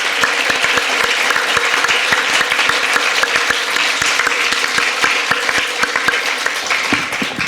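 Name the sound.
audience applause at book awards ceremony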